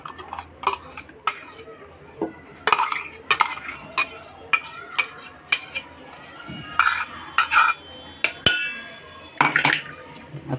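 A spoon scraping and clinking against a metal pot while jaggery and jackfruit paste is stirred, repeated sharp knocks in an irregular rhythm, close and clear, with occasional faint talk in the background.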